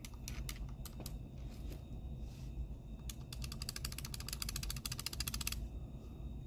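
Game Boy Color buttons fitted with black dampened membranes in a Chromatic button swap, pressed close up: scattered single clicks at first, then a fast, dense run of sharp plastic clicking that stops abruptly.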